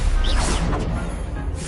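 A spell blast in the video game Hogwarts Legacy, a sharp whooshing crack followed by a short swishing decay, loud and close.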